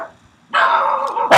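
A single loud, close dog bark, drawn out and slightly whining, breaking a short quiet, followed immediately by the start of a second bark; no talk.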